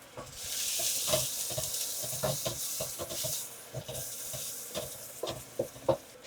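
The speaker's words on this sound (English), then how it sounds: "now we're going to add the rest of that curry powder. And with that, I'm going to add the rest of the garlic" Curry powder and garlic sizzle in a pot with Jamaican curry cowfoot, a steady close fry broken by repeated scraping stirs and clacks of the spoon against the pot.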